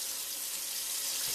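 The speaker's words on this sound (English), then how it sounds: "make sure before you start cooking, you always wash your hands." A kitchen tap runs steadily as hands are washed under it before cooking, a close, even hiss of water with no talking.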